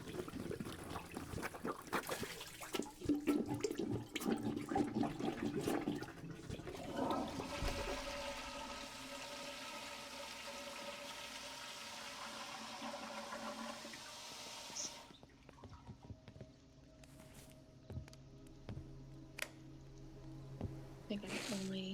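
Toilet flush in the cleaning game Paranormal Cleanup, a loud gurgling rush of water that fades into trickling and dripping, with occasional sharp clicks and squishes afterward.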